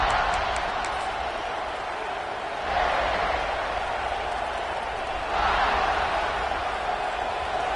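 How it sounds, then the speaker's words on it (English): Football stadium crowd at a South Carolina Gamecocks kickoff, a broad roaring swell of cheering that rises in two waves, with a commentator talking over it. "This crowd ready to make its presence known"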